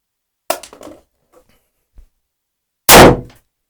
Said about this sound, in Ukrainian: Ну, другий патрончик вистрелив.